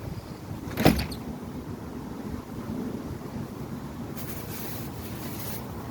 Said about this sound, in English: Here comes the wind. The wind's blowing. Wind's blowing crazy.